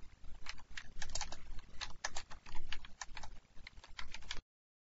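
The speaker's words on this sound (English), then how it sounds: "When you actually type some things in," Quick, uneven clatter of keys on a computer keyboard while entering code, close and fairly quiet, with short bursts and brief pauses and no voices.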